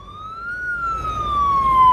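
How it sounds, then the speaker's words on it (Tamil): Ambulance siren on a road, one wailing tone sliding slowly up and then down, close and loud over a low rumble of traffic, with no speech. "இந்த ஆம்புலன்ஸ் டிராபிக் இல்லாம இந்த ரோட்ல போக முடியாது."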